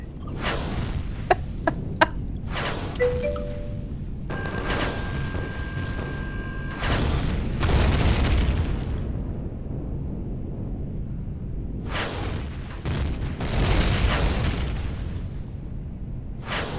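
A base being blown up in the game Empyrion, with several heavy booming explosions and rumbling bursts spread over the stretch, plus a few sharp pops and short electronic tones earlier.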